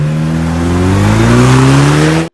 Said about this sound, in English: installing the Corsa Performance 2 3/4 Catback exhaust system. I'm super excited to see what this sounds like